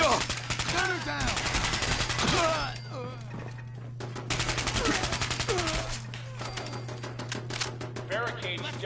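Rapid gunfire in the video game Fallout 4, repeated fast bursts of automatic shots with a steady low hum beneath, punctuated by a short pause before the shooting resumes in dense rattling volleys; voices speak intermittently.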